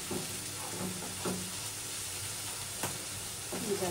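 Spice paste with turmeric and chili frying in a pan for a pangas fish curry, a steady soft sizzle with occasional stirring scrapes, no voices over it.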